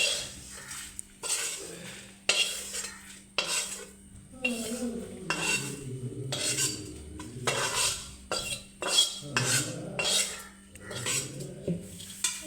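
Metal utensils clatter and scrape against a vessel as drumstick leaf chutney powder is transferred, with repeated sharp clinks and scraping strokes and a soft low hum underneath.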